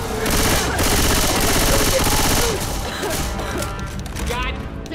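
Sustained rapid gunfire fills a Left 4 Dead 2 firefight, dense and loud for several seconds before thinning into scattered shots under the game din.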